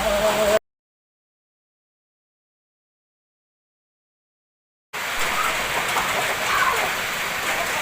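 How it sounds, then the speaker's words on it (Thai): Steady, even hiss of rain falling, cut off by a stretch of total silence before the soft wash of rain resumes. "ตอนนี้ฝนตกเป็นเรื่องธรรมชาติ"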